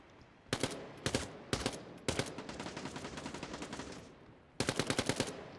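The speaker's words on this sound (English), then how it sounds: "he's pre-firing a lot with the SMG here on the health packs" SMG fire in Quake Champions during a 1v1 tournament match: several short, sharp bursts of rapid shots spaced apart, with a softer stretch of quieter fire in the middle, heard clearly with no talk over it.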